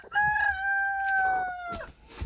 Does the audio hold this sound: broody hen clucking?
yes